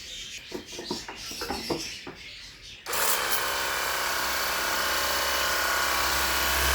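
People talk briefly, then a cordless lithium battery car washing water gun switches on with a loud, steady motorized hiss and spray that keeps going without a break.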